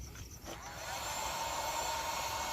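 A small vacuum whirs steadily, with a constant airy motor hiss, while it collects pollen from Stenocereus queretaroensis cactus flowers. The hiss swells slightly after a brief dip near the start.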